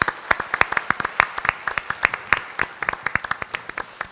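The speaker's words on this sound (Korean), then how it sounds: "하나님께 박수로 영광 돌리겠습니다." A church congregation applauding at an Easter Sunday worship service, with irregular, fairly sparse hand claps from a modest crowd, sharp individual claps spread across a few seconds and no talking.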